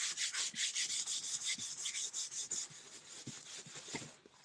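A damp paper towel is rubbed over freshly sanded wood in quick rhythmic back-and-forth strokes, a soft close scuffing that slows and thins toward the end.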